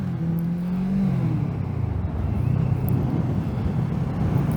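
A Kawasaki Z650 motorcycle is ridden, its engine humming steadily under constant wind rush, with pitch rising and falling as it pulls through first gear, close and continuous.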